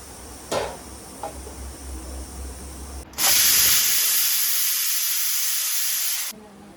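A few clicks and a low hum, then a pressure cooker whistle bursts out as a sudden loud, steady steam hiss for about three seconds before cutting off abruptly.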